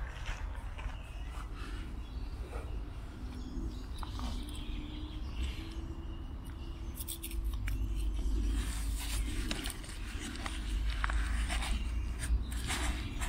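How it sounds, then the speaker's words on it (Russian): A SanDisk Extreme 256 GB microSD memory card in an antistatic bag is unpacked with a knife, giving close crinkling plastic, scraping and snipping handling noises in irregular bursts, growing busier and louder toward the end. "Распакуем."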